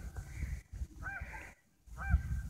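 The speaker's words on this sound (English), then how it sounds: "Do you see those geese over there?" Geese honking at a park, a few loud nasal honks in short bursts with a brief quiet gap between them, near and without talk.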